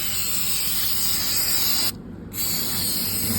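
Mototech chain cleaner sprays onto a motorcycle chain in a steady, loud, close hiss that cuts out briefly partway through and then resumes.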